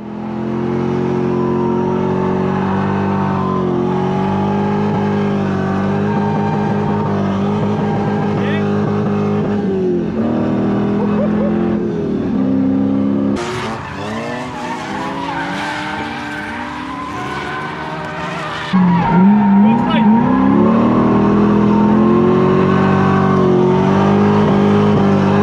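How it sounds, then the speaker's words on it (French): Drift car at a big drifting event in Spain, engine roaring and revving loudly while the tires squeal through a Manji, a long sustained howl that shifts pitch and surges louder, with talk over it. "je vais lancer mon tout premier Manji"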